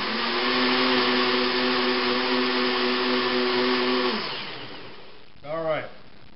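A blender whirs loudly and steadily as it blends a goji aloe shake, then winds down and stops. A brief voice follows near the end.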